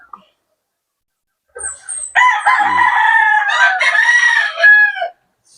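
A large pure white gamecock crows loudly close by, with a few clucks just before. The drawn-out crow follows a brief silence and fills the rest of the moment.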